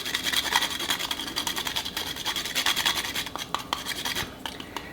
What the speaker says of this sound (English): imagine some nice pasta here with a little grater